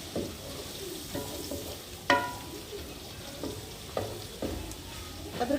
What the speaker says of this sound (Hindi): अदरक लहसुन को हम 2 से 3 सेकंड के लिए फ्राई कर लेंगे।